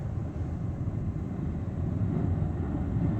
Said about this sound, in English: that airplane is going pretty low, I think, because I heard the higher frequency sounds of the airplane